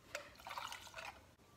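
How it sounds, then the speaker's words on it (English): Espresso poured into a cup gives a faint, soft liquid trickle with a few light drips, quiet and close, with no talking. "So now we're going to pour the espresso."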